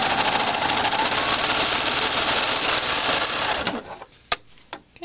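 Sewing machine stitching steadily around a Velcro patch on a Valentine bag, a dense continuous whir for nearly four seconds before it stops, leaving a few faint clicks.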